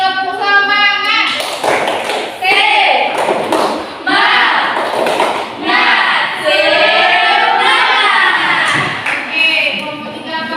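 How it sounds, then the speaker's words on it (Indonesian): Schoolchildren in a classroom repeat a rhythmic cheer clap, with patterned claps and taps mixed with loud group chanting voices in short energetic phrases. "Ibu ulangi lagi, tepuk semangat."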